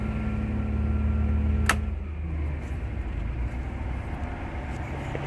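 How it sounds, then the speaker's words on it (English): A bus vibrating violently while running, heard as a loud, steady low engine drone and rumble with one sharp rattle or clank early on, then continuing rough idling hum. "The bus is vibrating violently."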